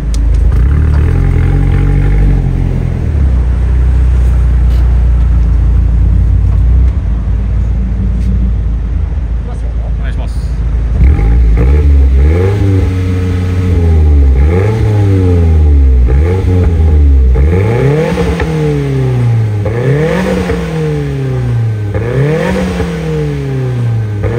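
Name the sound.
sports car exhaust revving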